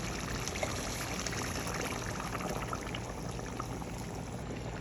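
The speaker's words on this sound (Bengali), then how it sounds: "এখন একটু গরম পানি দিয়ে দিব আমি।" Hot water pours onto cooked beef in a pot for biryani, a steady soft rushing and bubbling stream, close and continuous for a few seconds.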